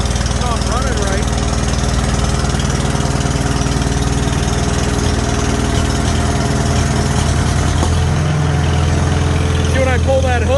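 A Farmall H tractor engine runs rough and skips spark, with a steady loud mid-pitched chug and an uneven beat near the end, under a voice.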